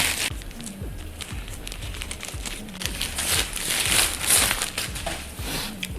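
Parcel package holding wallpaper being torn open, giving steady crinkling, crushing and ripping of wrapping that stays close and loud throughout, with no talk.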